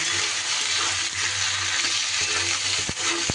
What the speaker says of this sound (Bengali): পেঁয়াজকলি, বেগুন, তারই সাথে টমেটোটাও দিয়ে দিচ্ছি। সুন্দর করে এবার কষিয়ে নেব।